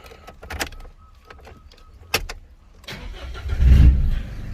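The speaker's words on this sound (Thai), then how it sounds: "ทดสอบสตาร์ทรถนะครับ" An Isuzu D-Max pickup is started with a newly fitted remote key: a few clicks and clunks of locks, then the engine cranks and catches into a steady idle rumble, close by and alone.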